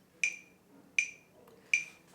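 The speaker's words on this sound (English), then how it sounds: "on my phone I literally just have an app called Metronome" Three evenly spaced, crisp clicks from a metronome app on a phone, sharp and fairly close, with quiet gaps and no talking.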